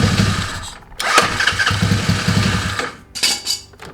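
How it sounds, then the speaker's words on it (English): A small motor is started with a momentary push button: a starter whir near one second catches into a running engine, which cuts out near three seconds and briefly revs again, close and loud with no talk. "So I gotta push it, and then I can start the motor"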